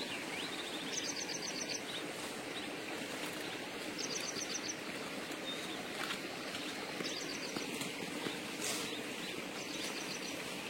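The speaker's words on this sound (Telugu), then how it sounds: "చిన్న చిన్న పిట్టలు పిచ్చుకలు శబ్దం చేస్తున్నాయి కదా" Small birds and sparrows call near a flowing field stream in short, repeated bursts of high chirps, spaced every couple of seconds over a constant wash of running water.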